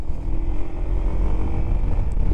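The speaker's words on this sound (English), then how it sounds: "See if you can hear the engine" A budget motovlog rider's motorcycle engine hums low and steadily while underway, partly buried in constant rumbling road and wind noise from the moving bike.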